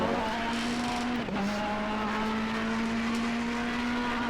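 A Ferrari race car in a racing video game at Bathurst holds a steady, loud engine drone through a lap, its pitch dipping briefly as it shifts and then climbing again.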